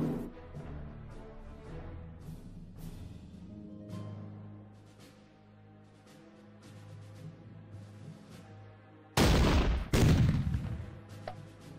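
Artillery fire in the wargame Battle Academy: scattered soft thuds early on, then two loud, sharp blasts close together near the end that ring out briefly.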